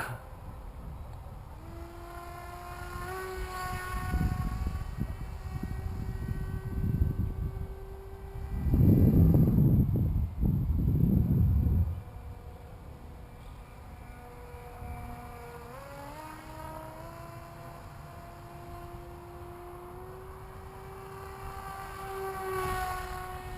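A radio-controlled model airplane flies at full throttle, its electric motor whining in a steady tone that shifts pitch as it passes, with a louder rushing burst midway during a close pass.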